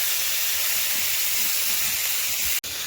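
Kohlrabi frying in a pan that was just used for frying fish, giving a loud, continuous hiss and sizzle throughout, with a brief cut near the end.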